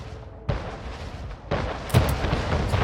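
Cannon fire in the strategy game Anno 1800 during a naval battle: several heavy booms, with sharp onsets near 0.5 s, 1.5 s and 2 s, stacked over a continuous rumble of battle.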